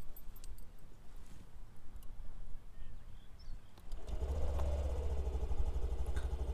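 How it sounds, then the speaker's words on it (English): A Honda Grazia BS6 scooter starts quietly after faint outdoor ambience with birds, then settles into a soft, steady low idle close by. "now the bike starts it. So this is how silent this bike is."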